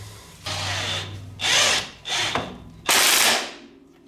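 A bolt on the front axle of a Can-Am Outlander 400 ATV being tightened with a 19 mm wrench, several short bursts of metallic ratcheting or grinding close up, separated by brief pauses, with no voices.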